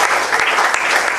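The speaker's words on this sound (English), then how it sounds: "So a big round of applause for Bajaj sir, who has been a man behind this name" Audience applause at an endowment award lecture: a dense, steady burst of clapping from a crowd filling the hall at even loudness throughout.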